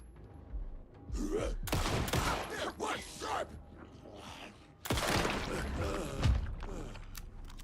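Gunfire in the video game Alan Wake 2 breaks out in loud bursts of shots and mechanical clatter, with a heavy crash partway through and someone speaking between the volleys.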